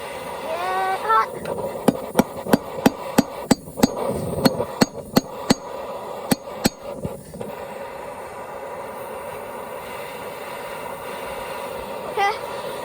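Hammer blows on hot steel as a knife blank is forged, its end drawn out and flattened: a quick run of about fifteen sharp, ringing strikes in steady rhythm, close and loud, then a long pause with only workshop background.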